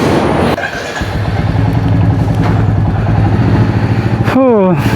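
Royal Enfield 350 motorcycle ridden on a trip from Delhi to Kedarnath, its engine giving a loud, close, continuous throbbing drone that rises into a brief sweeping whine at the end.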